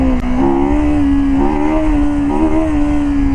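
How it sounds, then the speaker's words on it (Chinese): KOVE 250rr Thornbird motorcycle held at full throttle in first gear, a loud, close, steady engine whine that climbs in pitch with slight wavers as the revs build. "我们来挂到1档啊， 来把全油，你能感受一下这个动力啊。"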